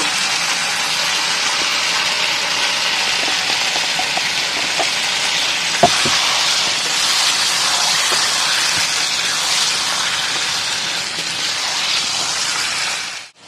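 Marinated chicken stirred and sautéed in a pan for coriander chicken with green chilli paste, a steady close sizzling hiss running throughout with a few faint clinks of the spatula.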